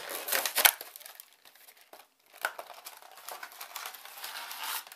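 Cardboard packaging boxes being pried open by hand, with close crinkling, tearing and rustling bursts of varying loudness and a short quiet gap midway.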